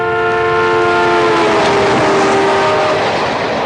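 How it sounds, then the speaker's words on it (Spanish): Loud train whistle sounding steadily as the train approaches, accompanied by a rumble of rail noise, with no talking. "Según se acerca el tren, el tono del silbato aumenta."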